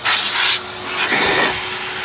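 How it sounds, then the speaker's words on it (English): A shop vac running in reverse blows air and water out through the jets of a hot tub being winterized, giving a loud, steady broadband rushing hiss that dips briefly partway through, with no talking. "Here's the end of the shop vac now."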